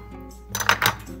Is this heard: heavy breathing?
no